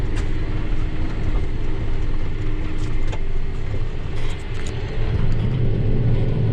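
John Deere tractor engine throttling up while pulling a manure spreader, a continuous deep rumbling drone with mechanical rattles, loud and close, steady throughout with no voices.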